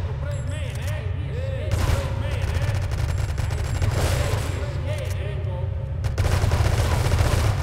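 Gunfire in the video game GTA 3, rapid bursts of shots and booms cracking repeatedly over a constant low engine drone, with someone talking in Portuguese.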